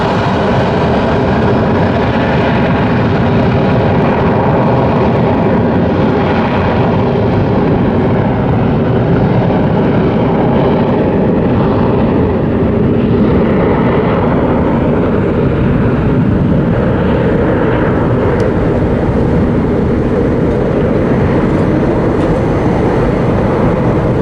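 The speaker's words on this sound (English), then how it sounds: "Those afterburners going." Jet aircraft with afterburners lit roar loudly and continuously for the whole stretch, a broad steady rumble near a San Diego airport, with no speech over it.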